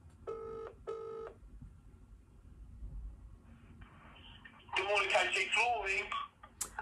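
A phone line during a cold call to a flooring business: two short tonal beeps of dialing, then a gap of faint line noise before a voice answers and talks loudly over the connection.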